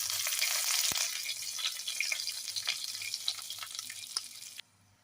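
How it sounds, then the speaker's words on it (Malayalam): Curry leaves and dried red chillies fry in hot oil with a steady crackling sizzle and scattered pops, close by and without speech, cutting off near the end. "കടുക് പൊട്ടിക്കഴിഞ്ഞിട്ട് അപ്പോൾ ഇനി നമുക്ക് കുറച്ച് കറിവേപ്പിലയും വറ്റൽമുളകും ഇട്ട് കൊടുക്കാം"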